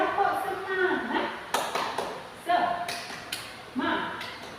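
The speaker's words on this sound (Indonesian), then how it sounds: "1, 2, 3, tepuk semangat." Schoolchildren in a classroom do a rhythmic clap-and-chant morning cheer, with sharp group claps falling between shouted chanting voices in a quick, uneven pattern.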